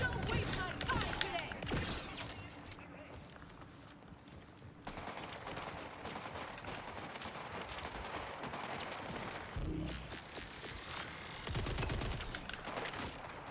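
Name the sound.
gunfire from a video game (Borderlands)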